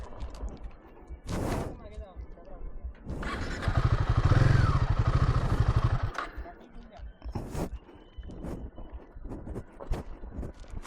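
A heavy Royal Enfield Himalayan 450 motorcycle stuck on an off-road trail obstacle, its engine revving loudly for a couple of seconds in a rough burst, with scattered thumps and faint voices around it.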